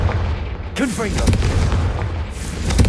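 A Confringo blasting spell goes off in the game Hogwarts Legacy, a booming explosion that bursts in partway through over steady low rumble, with a voice speaking around it.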